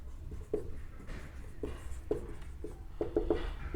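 Chalk or marker strokes on a classroom board during a mathematics lesson, a series of short scratchy taps and scrapes in irregular rhythm, close and moderately loud with a low room hum behind.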